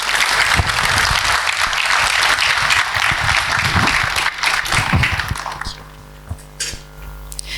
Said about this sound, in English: Please give her a resounding round of applause.